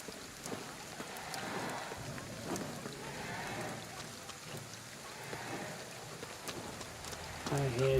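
Rain falls in the video game Ghostwire: Tokyo as a soft, continuous wash with faint low rumbles, fairly quiet, with a voice talking over it near the end.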